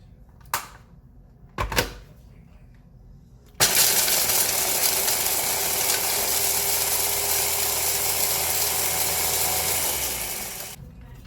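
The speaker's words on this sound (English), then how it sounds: "We're going to crush 1 cup of the Doritos into a food processor or a blender." Food processor or blender crushing a cup of Doritos tortilla chips, starting with two brief pulses, then a loud, steady grinding whir for about seven seconds before cutting off.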